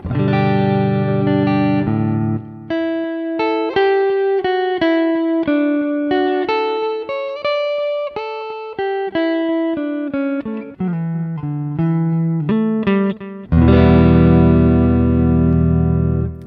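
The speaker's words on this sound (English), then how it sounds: "This is your pseudo chorus. So here is it without it. Push it in, you'll hear it like warble." An electric guitar through a Tech 21 FlyRig 5 v2 pseudo-chorus drift effect plays a clean melodic line with a slight wavering warble, ending on a loud, full sustained chord.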